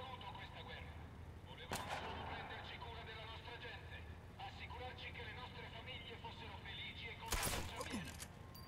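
Gunfire in a first-person shooter game: two sharp broadband shots stand out several seconds apart over a steady bed of game ambience and background noise.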